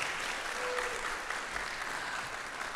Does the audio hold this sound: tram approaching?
no